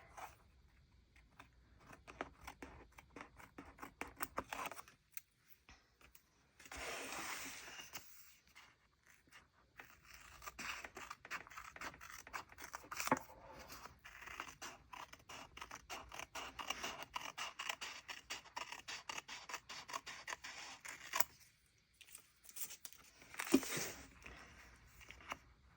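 Paper is trimmed with scissors for a bullet journal, repeated close crisp snips and slicing cuts in bursts, separated by short quiet gaps and light paper rustling, with no voices.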